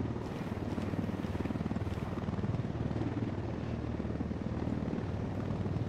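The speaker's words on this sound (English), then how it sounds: "helicopter's flying above us" Helicopter rotor chop thumps steadily and loudly overhead in Ghost Recon Wildlands, a close, continuous pulsing drone with engine rumble underneath and no speech over it.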